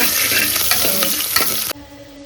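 Onions dropped into hot oil for an egg sambar, a loud, dense sizzle with scraping stir strokes close by, cutting off abruptly near the end.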